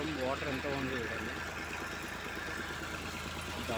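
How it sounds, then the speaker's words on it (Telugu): Two tractor engines drive motors pumping water out of a flooded excavation at a construction site in Amaravati, making a continuous loud, even drone, with a faint voice at the start. "3 మోటార్స్ ఇక్కడ వర్క్ చేస్తున్నాయి, 3 మోటార్స్. ఒక మోటారు 2 ట్రాక్టర్స్ మోటార్స్ వర్క్ చేస్తున్నాయి ప్రజెంట్."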